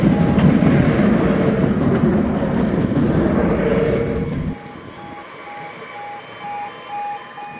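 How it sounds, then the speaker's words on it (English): A Nottingham city tram rumbles loudly into the stop, then the noise drops away abruptly to a quieter background with a faint, repeated tone. "Tram's here."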